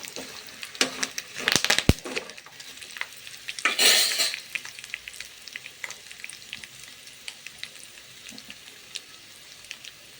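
Curry leaves fry in hot oil for pulihora, crackling close and loud at first with sharp bursts of spluttering, then settling into a lighter, even sizzle broken by small pops and the odd stir, with no voices.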